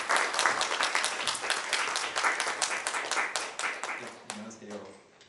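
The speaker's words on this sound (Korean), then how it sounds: "힘찬 박수로 맞이해 주시기 바랍니다." Audience at a startup networking event in Korea applauding heartily: dense, steady clapping from many hands that gradually thins and fades away, with a voice faintly beginning at the end.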